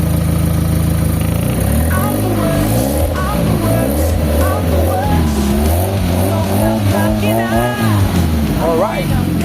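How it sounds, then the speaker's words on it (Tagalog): A car engine runs after a fuel pump relay repair, a loud close rumble with shifting tones and small rev changes throughout, under some nearby talk. "andar na yung makina natin"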